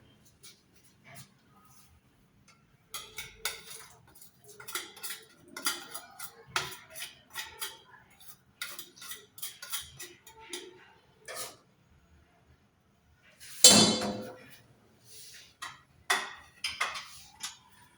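Spice mix stirred into yogurt and cooking oil in a bowl, a string of soft scraping and clinking spoon strokes in irregular bursts, with one louder clatter near the end, no talk.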